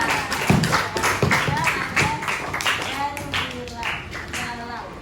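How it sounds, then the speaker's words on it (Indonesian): A classroom of students claps for three classmates, with a fairly close, uneven patter of hand claps that tapers off over several seconds while voices carry on underneath. "tepuk tangan untuk mereka bertiga"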